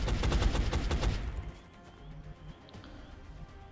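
Rapid burst of gunfire from the turn-based strategy game XCOM: Enemy Unknown, a loud rattling volley lasting about a second that cuts off abruptly, leaving quieter game ambience.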